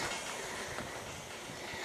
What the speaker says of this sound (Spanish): Ese es el tren regional.